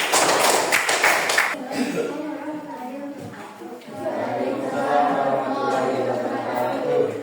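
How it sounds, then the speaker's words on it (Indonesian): A short burst of clapping from a small classroom audience after a student presentation, dense at first and then fading out as voices take over. "tepuk tangan"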